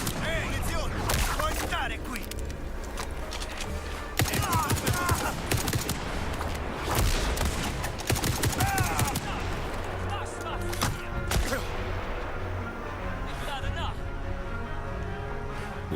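Rapid bursts of video game gunfire crackle loud and close in a shooter, with repeated volleys and short pauses between them. Muffled speech runs underneath.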